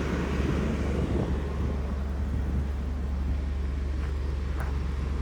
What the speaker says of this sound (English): I can't believe this motor sounds actually really good and quiet